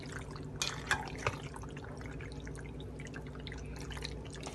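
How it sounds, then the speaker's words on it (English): Haitian mac and cheese, macaroni au gratin, being mixed gives faint, soft wet smacks and squelches, a few sharper ones early on, over a steady low background hiss. "if you don't hear this sound, this like wet smacking sound, then your mac and cheese is probably not going to come out bomb"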